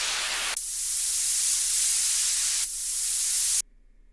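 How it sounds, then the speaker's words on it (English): A synthesized white noise downlifter in FL Studio, a loud hissing wash that sweeps downward, repeats once after a short break, then cuts off abruptly to near silence. "A bit of a white noise riser or downlifter."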